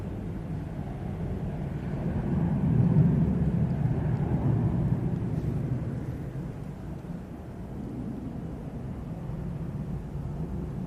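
A Hainan Airlines Airbus A330 passes at a distance, a low steady jet rumble that swells briefly and fades back into a broad wash of engine noise.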